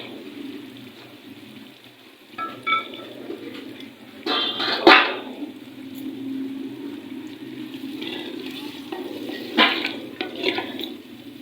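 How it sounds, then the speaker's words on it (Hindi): Peeled potatoes fry in a handi with masala, with a low background sizzle broken by several sharp clinks and scrapes from stirring against the pot, close and intermittent. "भूनते हुए हांडी के साथ आलू भी हमारे भुने जाएंगे।"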